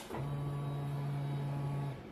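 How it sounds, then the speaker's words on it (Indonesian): A used motorcycle's fuel pump whirs after the ignition is switched on, producing a steady low electric hum that runs for about two seconds and then stops, faint and close, with no talking. "itu adalah suara pompa bensin yang masih"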